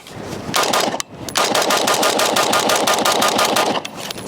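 A PSA JAKL 13.7 inch rifle fitted with a LaRue Tactical RBT two-stage trigger fires two loud, rapid strings of shots at close range, split by a brief pause near the one-second mark.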